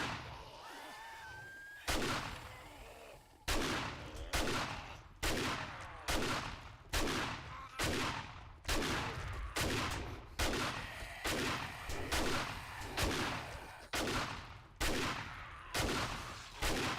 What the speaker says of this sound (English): Stealth shotgun.